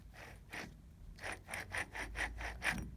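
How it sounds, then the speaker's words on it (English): A worn front wheel bearing from a high-mileage Volvo 850, with its dust covers falling off, spun by hand and giving off repeated rough grinding, rasping strokes, close and fairly quiet, with no talk. "This one's got a nice little kind of grind to it."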